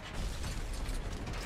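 Tank gun reloading in War Thunder, a steady mechanical clatter of ratcheting and clanking metal with low rumbling bursts, close and continuous for a moment, with no talking.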